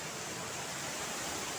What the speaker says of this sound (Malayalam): കണ്ട ഗൈസ് വെള്ളമൊക്കെ ഒഴുകുന്നുണ്ട്.